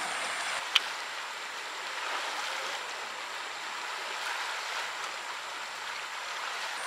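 Steady soft rush of the Hooghly river current flowing by the riverside in the morning, an even broadband wash with no voices, one faint brief tick near the start.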